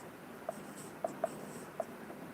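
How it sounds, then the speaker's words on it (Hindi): A pen scratches and taps on a writing surface during a chemistry lesson, a few faint isolated strokes close by in an otherwise quiet room. "क्या मैं लिख रहा हूं"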